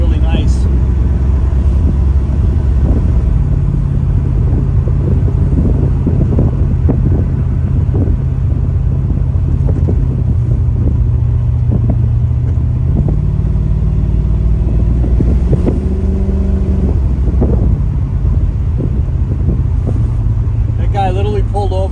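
Chevrolet C4 Corvette with a 385 engine and a new IAC valve idles steadily and runs with a constant low rumble, loud and close, with wind noise over it.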